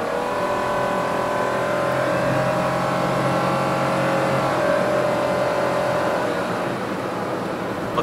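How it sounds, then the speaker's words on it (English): A 2023 Perodua Axia engine pulls steadily and loudly under power-mode acceleration, its rising drone and road roar continuous throughout, heard from inside the vehicle. "now I will try to use the power mode and give this car a little bit more acceleration"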